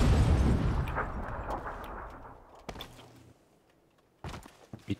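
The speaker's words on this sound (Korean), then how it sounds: "수류탄 조심해." A grenade blast in a battle royale shooter: a heavy boom with a long rumbling decay, then fainter thuds, footstep-like scuffs and a couple of sharp pops near the end.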